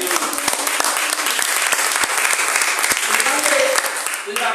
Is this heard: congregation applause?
yes